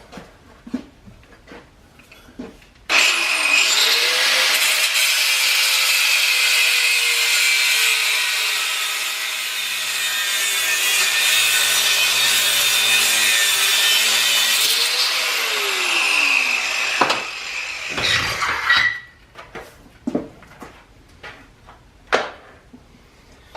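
A power tool cuts open a metal tank for a blast furnace build, giving a loud, continuous whining grind for about sixteen seconds with slight shifts in pitch. After it stops, scattered clanks and handling knocks follow, and no voices are heard.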